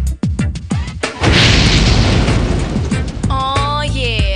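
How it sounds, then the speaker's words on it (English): A heavy gas explosion booms after a few sharp thuds, followed by a long roaring rumble that fades into ringing tones and whistles. "escaping gas can cause a big explosion."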